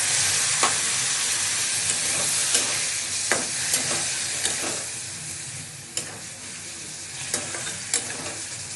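Paneer sizzling in a pan (a sesame paneer fry) after a splash of water is added: a steady, close hiss with scattered clicks and scrapes from stirring.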